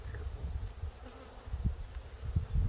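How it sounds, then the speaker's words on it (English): Honey bees buzz around during a new hive installation outdoors, a faint, uneven buzzing close by with soft bumps and handling noises. "It's going to be kind of difficult to get a hold of without these bees flying everywhere"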